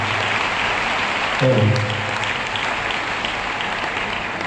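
An auditorium audience applauds in steady dense clapping to welcome a spiritual speaker at a devotional Ram Katha discourse, with a brief low hum partway through.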